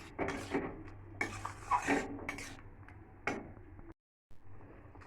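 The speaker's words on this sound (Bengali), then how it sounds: "গরম মশলাটা দিয়ে দেবো, দিয়ে ভালো করে আবারও একটু নাড়িয়ে নেবো।" A spoon stirring matar mushroom curry with peas and capsicum in a pan after garam masala goes in, giving several clattering scrapes and knocks against the metal at an irregular pace, close and moderately loud.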